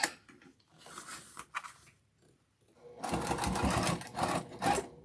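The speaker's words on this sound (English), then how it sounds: "Back stitching over that seam, lining everything up," A sewing machine back stitching over a fabric seam on a boxy bag: two bursts of close, rapid mechanical stitching whir, a short one followed by a pause and then a longer, louder run.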